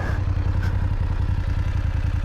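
A motorcycle rides over a rough dirt road, its engine chugging in a rapid, even pulse close by, with rattling and scraping from the bumpy ground and no talking.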